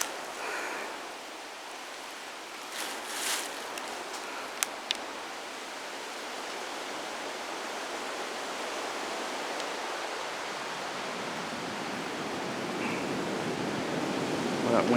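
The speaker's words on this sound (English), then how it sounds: "That wind is really picking up." Strong wind rushing through a forest, a broad steady roar that swells louder toward the end, with a few faint knocks early on and no speech.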